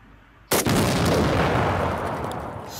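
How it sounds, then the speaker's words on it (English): A truck blows up after being hit with a high-powered rifle, a sudden loud blast followed by a sustained roaring, crackling burn that fills the rest of the moment without fading much. "let's get a nice big explosion,"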